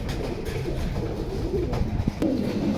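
Large pigeons coo softly and repeatedly nearby, their low throaty calls rising over a busy background murmur.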